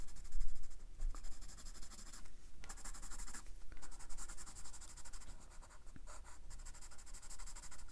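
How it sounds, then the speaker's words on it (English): A watercolor pencil shades a daffodil drawing on paper, making soft, close scratchy strokes in quick repeated bursts with short pauses and no speech. "I can go in here and shadow it, shade it with the pencil"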